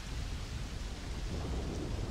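Steady rain and deep rumbling thunder on an Earth-like planet in the video game Starfield, a continuous loud roar with no voices.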